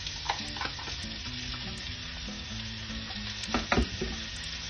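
Chopped and sliced onion fries in oil with a bay leaf in a pan, giving a continuous close sizzle with a few louder spatters and stirring bumps near the end.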